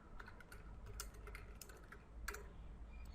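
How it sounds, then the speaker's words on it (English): Keys clatter on a computer keyboard while a chat message is typed, soft scattered clicks in short bursts over a steady low background hum. "And now if I type in a message"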